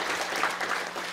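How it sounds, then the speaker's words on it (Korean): A brief burst of audience applause at a county town-hall community meeting in Yongmun-myeon, Yangpyeong, with dense, moderately loud clapping from a seated crowd. "박수 한번 보내주시고요"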